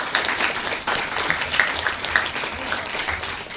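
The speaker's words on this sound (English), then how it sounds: "all the debaters deserve a round of applause for their efforts today." Audience at a school debate applauding the debaters, a steady wash of many hands clapping for several seconds at moderate volume with no speech over it.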